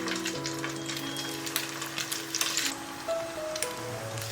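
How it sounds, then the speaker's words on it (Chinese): Chicken breast and tofu patties fry in oil in a pan with a gentle crackling sizzle, alongside scattered clicks and a few sustained tonal hums. "团好就可以直接下锅煎"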